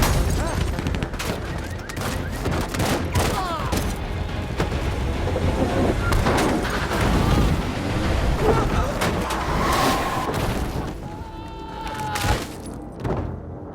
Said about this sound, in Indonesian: lalu memberondong mobil Cole dengan tembakan